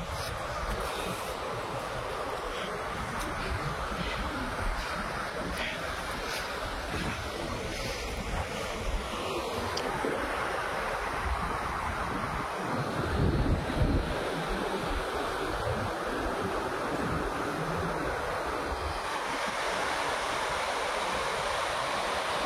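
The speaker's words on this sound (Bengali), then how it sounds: "সামনে ঝর্ণা রয়েছে, আসুন আমরা ঝর্ণা দর্শন করি।" A mountain waterfall on the Hemkund Sahib trail roars as a dense, continuous broadband rush of falling water, loud and steady throughout with no talk.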